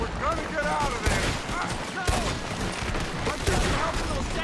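Heavy cannon fire and booming explosions in Red Dead Redemption 2, loud and repeated over about four seconds, with sharp blasts near the 1, 2 and 3.5 second marks amid continuous gunfire and chaotic battle noise.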